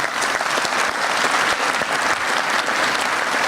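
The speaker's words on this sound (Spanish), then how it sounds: "Un aplauso, por favor, a Javier Rodríguez." An audience at an Industry 4.0 expert debate gives a panelist a burst of loud, dense applause, steady clapping from a large crowd throughout.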